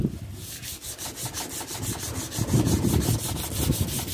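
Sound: sander polishing a knife blade

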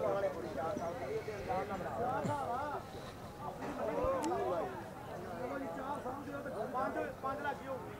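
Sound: mixed breed mare moving and neighing

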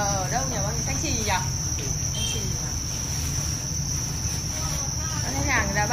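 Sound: crickets chirping on a cricket farm

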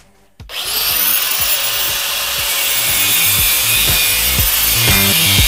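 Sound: grinding welds off a steel shifter linkage yoke

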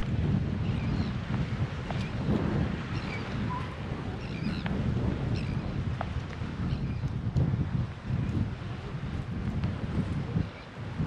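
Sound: wind on the coast of Anglesey

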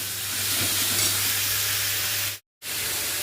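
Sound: whole cumin seeds sizzling in hot oil

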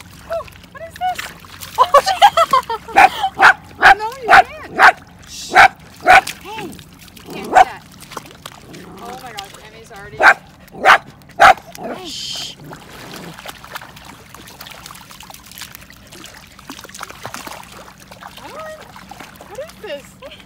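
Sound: dogs barking and splashing while swimming in a lake

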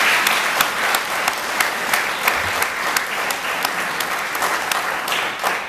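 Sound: applause

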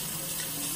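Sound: tap water running while cleaning a blue crab

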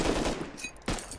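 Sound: shotgun trap firing in video game Rust

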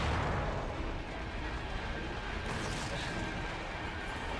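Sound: explosions in a video game

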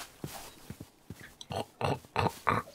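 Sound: person imitating a pig oinking

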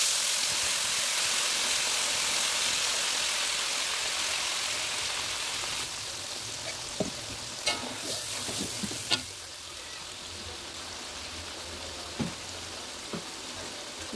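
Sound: sautéing blended chili, garlic and tomato spice paste

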